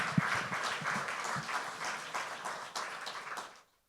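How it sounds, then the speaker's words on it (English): Ceremony applause at the reveal of designs for a new hospital, a crowd clapping steadily with a few sharp nearby claps, tapering slightly before cutting off abruptly into silence. "another round of applause"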